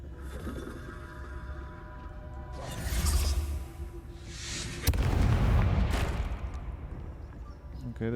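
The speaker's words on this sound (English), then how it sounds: "there's an explosion" A deep rumbling explosion booms in the Hogwarts Legacy video game, with two heavy blasts and whooshing debris rolling over a low background, loud and close.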